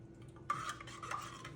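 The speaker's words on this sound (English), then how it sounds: "I'm gonna stir it up some more" A spoon stirring syrup into a homemade decaf iced latte, a brief quiet swirl and scrape against the glass, close and faint.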